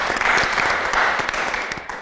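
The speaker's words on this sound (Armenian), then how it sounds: "Ձեր ծափերի ներքո" An audience at a live comedy show claps in a dense, loud burst of applause that holds steady for a couple of seconds, then begins to thin.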